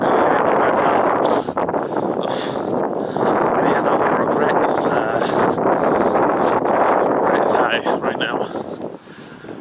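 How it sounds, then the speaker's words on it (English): Steady outdoor wind gusting and buffeting against a microphone on a cloudy, overcast day at a work site, a broad continuous roar that holds throughout and eases slightly near the end. "As the wind's up, the clouds are there"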